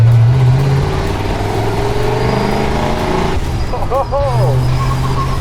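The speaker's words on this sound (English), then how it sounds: "this is a strong engine" A light 1920s hot rod weighing about 1,250 pounds drives with its strong engine rumbling loudly and close, the tone shifting as it runs, while a voice talks over it.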